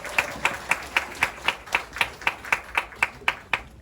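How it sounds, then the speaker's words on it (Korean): Steady rhythmic clapping from a church audience welcoming a pastor, about three claps per second, even and moderately loud with no voices over it. "박수로 환영하겠습니다"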